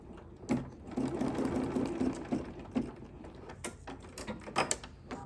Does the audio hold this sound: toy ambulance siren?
no